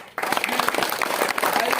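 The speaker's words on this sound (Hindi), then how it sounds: "आप लोग एक बार ताली बजाकर" Applause breaks out suddenly and continues as a steady wash of clapping from a crowd at a panchayat meeting, with voices mixed in.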